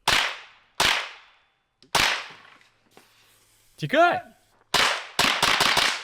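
Loud sharp gunshots ring out close by, several spaced single shots and then a rapid burst, with a person shouting in between.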